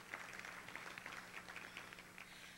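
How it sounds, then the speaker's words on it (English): Scattered audience applause for a state representative at a Latino policy forum, a thin, quiet patter of hand claps from a modest crowd, fairly faint and steady throughout. "Big applause for her."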